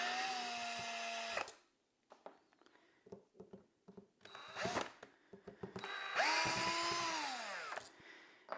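A power screwdriver backs long Torx 10 screws out of a Bosch Powerpack battery, with bursts of whirring motor that rise and fall in pitch, separated by clicks and handling noises of plastic casing.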